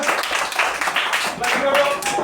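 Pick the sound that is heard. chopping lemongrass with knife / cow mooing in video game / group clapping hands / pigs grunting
group clapping hands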